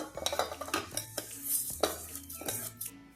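Roasted moong dal is tipped into a cooking pot alongside washed rice for masala khara pongal, giving clattering metal pot and spoon knocks, scraping and light rustling in a close, uneven sequence with no talking.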